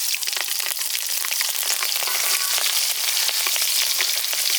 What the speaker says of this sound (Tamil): ஒரு 4 பச்சை மிளகா போடுறோம்.